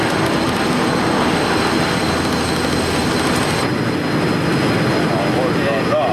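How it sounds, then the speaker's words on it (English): Airbus A380 airliner in a high-speed dive during flutter testing, a loud steady roar of rushing air and jet engines held for several seconds, with a slight shift in tone partway through. "Reassured that they can attempt the final push, the crew takes one more dive."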